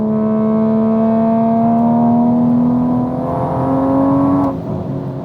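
A 700-horsepower MK5 Supra engine revs hard and climbs steadily in pitch as it accelerates, then the note drops off abruptly near the end.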